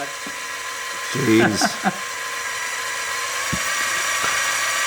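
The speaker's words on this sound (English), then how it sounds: "I don't know how else to explain how good this drill bit is." Drill bit boring into a workpiece while fitting head studs on a car, a whining motor rising and then holding a steady high drone, with a brief spoken exclamation in the middle.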